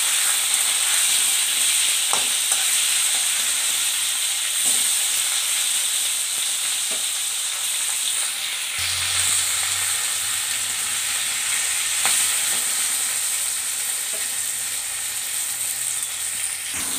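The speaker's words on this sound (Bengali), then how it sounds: "পটলটা ভাজতে ভাজতে সেদ্ধ হয়ে গেছে আমি এইভাবে পটলটা ভেজে নিয়েছি" Pointed gourd (potol) seasoned with turmeric and salt fries in a pan, giving a steady, close sizzle with soft crackles and occasional stirring scrapes that runs without a break, no voices.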